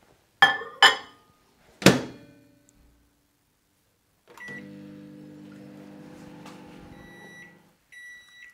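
A door clunks shut a few times, then a microwave oven hums steadily with a low drone, followed by beeps near the end.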